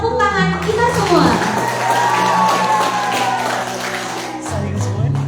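Audience applause and cheering for a primary school girl introduced on stage, a dense wash of clapping with children's voices and crowd noise mixed in, steady and fairly loud, with a voice speaking faintly near the end.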